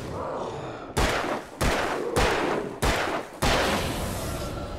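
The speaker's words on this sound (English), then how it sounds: "Now I will just continue to rapidly shoot you." Gunfire from a gun in the video game Alan Wake: five heavy, close shots spaced about half a second apart, each a sharp blast with a short decaying tail, and no talking.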